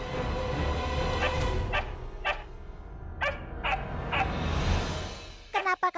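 A dog barks in a domestic scene from an Indian drama series: a string of short, sharp yaps spaced irregularly over a low background hum, ending in a quick cluster of yelps.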